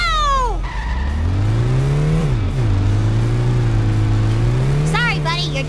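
Loud video-game engine roar from a car in The Simpsons: Hit & Run, revving and rising in pitch with tire skids and squeals, while a character's voice talks over the racing.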